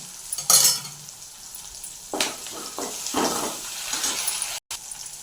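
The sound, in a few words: onions and dried chillies frying in oil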